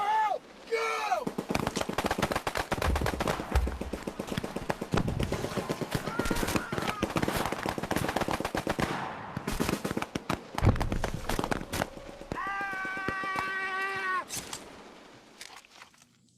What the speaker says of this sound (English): why I played a 3-minute battle clip